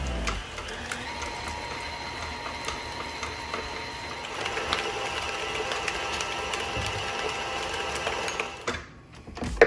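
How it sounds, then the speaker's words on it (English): A kitchen mixer whirs steadily while smoothing chilled custard pastry cream, a close mechanical motor hum with a faint rattle that grows slightly louder midway, then winds down near the end. "The next day, smooth the cream a little, by hand or in the mixer."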